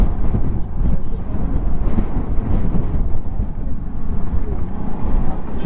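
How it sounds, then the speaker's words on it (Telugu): Strong sea wind buffets the microphone on the road to Dhanushkodi, by the sea near the Pamban bridge, a loud steady rumbling roar throughout with engine-like low noise from the ride. "గాలి మాత్రం గట్టిగా దొబ్బుతుంది చూడండి"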